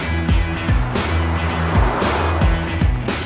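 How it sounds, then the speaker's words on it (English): A 2019 BMW X5 SUV engine drones loudly at speed, its tone rising and dropping repeatedly through quick gear changes. "I really liked the sound, and it egged me on to push the car further."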